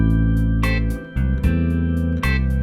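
Bass guitar works through a minor blues turnaround in A, deep sustained notes shifting between chords over a steady, loud low-end tone, with a couple of plucked attacks and no talking.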